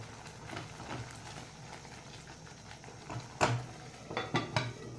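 Paneer corn gravy being stirred in a pan after salt goes in, a utensil scraping and tapping against the metal in irregular clinks, a few louder knocks toward the end, close and fairly quiet with no voices.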